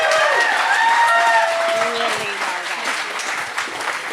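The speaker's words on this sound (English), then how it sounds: "How about we keep the applause going for Emily?" Crowd applause at a Central Oregon business pub talk, a continuous wash of clapping with a voice speaking over it and a rising and falling tone sweeping through, fading slightly toward the end.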